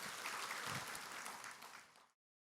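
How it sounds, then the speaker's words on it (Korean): An audience at a Sunday Buddhist dharma service applauds in a dense, continuous wash of clapping that fades out after about two seconds. "박수로 맞으세요"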